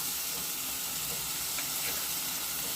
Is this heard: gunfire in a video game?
no